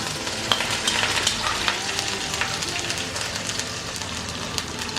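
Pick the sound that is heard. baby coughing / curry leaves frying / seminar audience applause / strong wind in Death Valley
curry leaves frying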